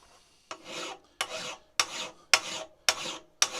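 Six steady strokes of a hand file rasping metal on part of a Japanese-made arbor press, each a bright scraping pass with a short pause between, close and alone.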